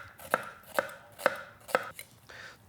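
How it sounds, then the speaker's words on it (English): A knife chops an onion on a cutting board, giving four crisp, evenly spaced cuts followed by a softer fifth one. The cuts are close and fairly quiet, with no voices. "2 ways of cutting an onion."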